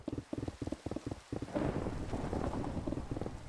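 Deep rolling thunder in rainy Minecraft weather swells up after a few soft rhythmic taps, then rumbles on steadily and fairly loud to the end, with rain noise underneath.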